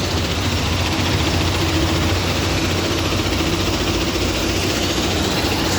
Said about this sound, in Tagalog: Pinilit na yung motor, vibrating motor.